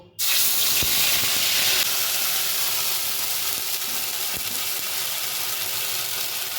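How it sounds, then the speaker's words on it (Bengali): Ginger, cumin and green chilli paste hits a hot pan with a sudden loud sizzle, then settles into a steady hissing fry with a few faint clinks. "এবার মশলাটা কষিয়ে নেব। আদা, জিরে আর কাঁচা লঙ্কা পেস্ট দেব।"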